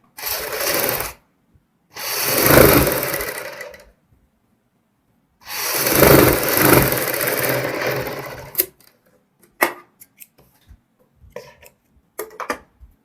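A sewing machine stitches a kurti neckline in three runs: a short burst, a longer one, and a sustained stretch, separated by pauses. It ends with scattered light clicks and taps as the fabric is handled.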